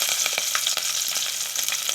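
Ginger, green chilli and onion saute in coconut oil with a continuous bright, crackling sizzle and small spits of frying, close and steady for the whole moment, no voices.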